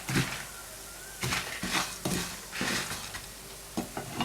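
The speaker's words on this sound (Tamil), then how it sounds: "இது போட்டு ஒரு நிமிஷம் நல்லா நம்ம ஃப்ரை பண்ணணும்" Spices frying over a slow flame for curry leaf thokku, a soft continuous sizzle broken by repeated close scraping stirs against the pan, with no voices.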